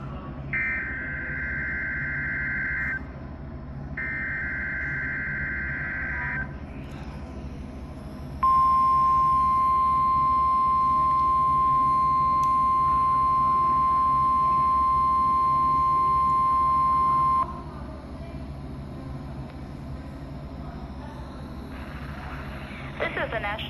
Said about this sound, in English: We have just activated the public warning alarm tone as a test of our weather radio station's warning alarm system